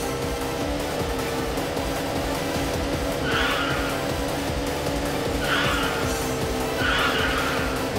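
A Toyota AE86 with a 1.6-litre four-valve engine races in the Initial D video game on PS2, its engine droning steadily while three short tire squeals cut in, fairly loud and continuous.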